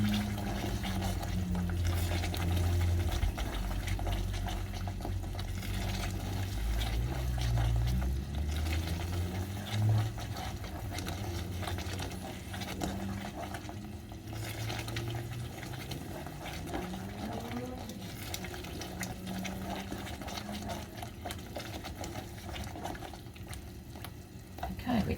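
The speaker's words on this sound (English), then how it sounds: "I'm stirring it continually so that it doesn't catch on the bottom." A Maltese sauce stirred continually in a pot, with a soft, steady swishing and scraping running throughout over a low, constant kitchen hum, and no voices.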